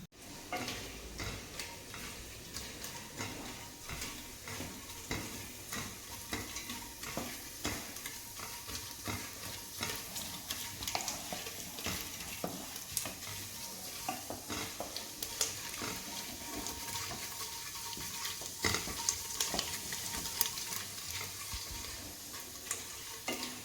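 Coconut pieces and shallots frying in hot coconut oil, with a steady close sizzle and occasional stirring scrapes and ticks of a utensil against the pan, running unbroken for over twenty seconds with no talking.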